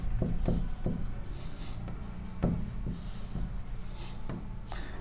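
Tally marks and frequency figures are written on a board, giving a string of short, scratchy strokes and taps in an uneven rhythm over a steady room hum.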